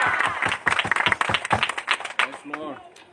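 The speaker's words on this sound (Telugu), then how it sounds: "గట్టిగా చప్పట్లు కొట్టారు." A church congregation claps loudly in a quick, rhythmic beat, and a voice speaks as the clapping fades near the end.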